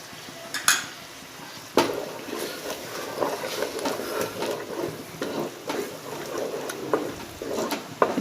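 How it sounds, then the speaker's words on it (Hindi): A spoon stirs yogurt into fish biryani masala in a cooking pot, giving soft scraping and clinking against the metal with occasional sharper knocks, amid a faint background sizzle. "इसे अच्छे से मिक्स करूंगी और धीमी आंच पर पकने के लिए रख दूंगी।"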